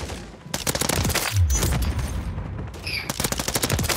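COR-45 gunfire in a shooter game: rapid bursts of automatic shots crackling close and loud, broken by brief pauses across a few seconds.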